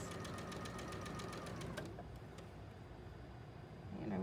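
Sewing machine stitching a seam just inside the marked lines, a rapid steady needle chatter for about two seconds, then stopping into quiet room noise with a faint bump at the end.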